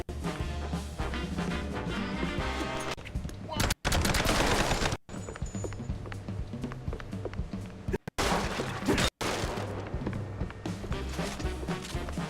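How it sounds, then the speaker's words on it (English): Fireworks going off outside, crackling and booming in scattered broadband bursts with a rapid volley in the middle, mixed under continuous background music and game sound. "I'm pretty sure that is fireworks outside"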